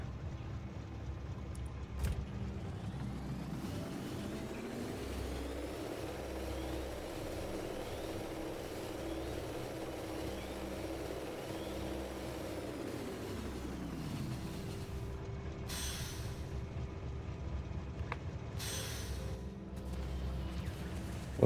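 A train in the game Factorio rolls along, giving a steady mechanical engine hum that rises in pitch, holds, then falls away over about twenty seconds at moderate volume, with no talking.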